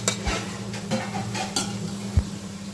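Onions sauté in a pan for beef biryani: a steady low sizzle runs throughout, with a few scraping, clinking spoon strokes against the pan.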